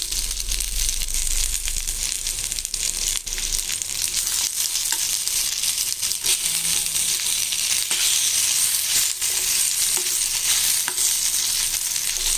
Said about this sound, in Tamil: போட்டு நல்லா வதக்கிடலாம்